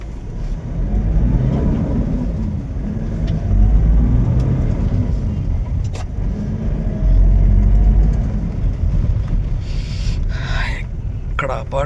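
A large seven-seater Innova's engine rumbles steadily at low pitch as it is parked in a shady spot, with a couple of swells in loudness, and a person talks over it throughout.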